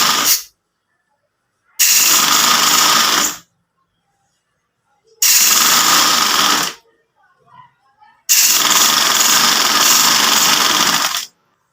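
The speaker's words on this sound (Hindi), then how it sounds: "उल्टी की तरफ ही हम रख के सिलाई लगा रहे हैं।" A sewing machine runs in three long, loud, even bursts with silent gaps between them as it stitches a shalwar, heard up close with a few faint clicks in one pause.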